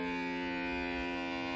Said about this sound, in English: Put your little vacuum on.